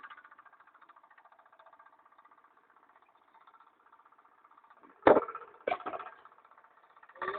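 A walk-behind tractor engine putters steadily in a field while weeding between potato rows overgrown with weeds, a continuous mid-level drone broken near the end by a few sharp, loud clanks and bursts.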